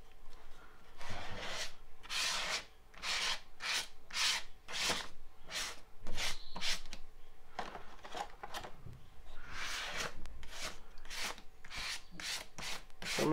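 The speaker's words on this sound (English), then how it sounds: "Make sure you're taking off every single piece of the shaving cream." Shaving cream is scraped off marbled paper in a grade-school craft, heard as repeated close rubbing strokes in an irregular rhythm, each a short dry swish with brief pauses between, with no talk.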